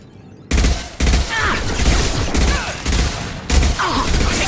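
Heavy gunfire in a Mass Effect 2 firefight: loud, close bursts of automatic weapons in rapid repeated volleys, with whizzing shots and impacts layered over a constant battle din.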